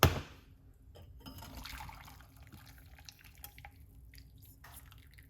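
Liquid pours and trickles in small splashes and drips after a brief opening clatter, quiet and close, with no one talking.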